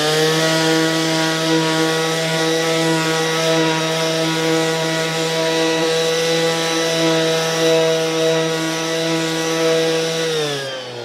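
An AEG BEX18-125 cordless random orbital sander runs at maximum speed, 22,000 oscillations per minute, giving a steady, loud, even high-pitched whine throughout that drops slightly as it winds down at the end.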